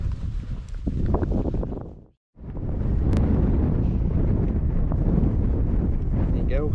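Strong wind on Chrome Hill, an exposed hilltop, buffets the microphone with a loud, rumbling roar that drops out briefly for a moment, then resumes just as hard.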